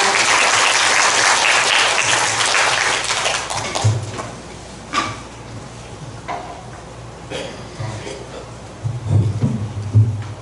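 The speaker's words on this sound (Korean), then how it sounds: "우리 김양호 회장님이 오셨는데 큰 박수로 모셔보도록 하겠습니다" An audience at a national youth speech and oratory contest applauds to welcome a guest, a loud burst of crowd clapping that fades after about four seconds into scattered claps, thumps and faint stirring.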